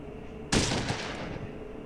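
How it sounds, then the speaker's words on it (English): A single loud shotgun blast in Fallout 1 that booms over a steady background hum and then tails off into a long fading rumble. "Hit him with my shotgun."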